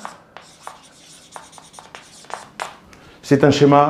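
A lecturer writes on a classroom board, giving a series of short scratchy strokes and taps, near and fairly quiet, before a voice starts speaking at the end.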